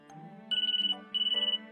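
A phone notification tone plays two short bursts of rapid, bright electronic trills after a low sustained chime, crisp and close with no talking.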